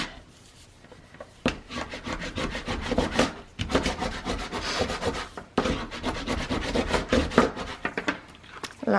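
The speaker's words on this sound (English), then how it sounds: "flip it over and burnish that good" Repeated rubbing strokes of a burnishing tool pressing a paper sheet down onto card, a steady scraping texture broken by short pauses, close and moderately loud.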